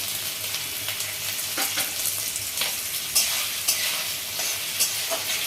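A bay leaf hits hot oil in a pan with chopped coconut, making a loud continuous sizzle and crackle near the listener, with occasional scraping stirs and small pops.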